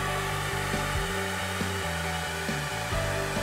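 A heat gun blows steadily while warming vinyl wrap being applied into a deep channel, a close, continuous airy whir with small shifts in pitch as it moves.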